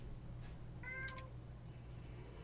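A house cat meows for attention, giving a couple of faint, short meows with no one talking, set against a steady low background hum.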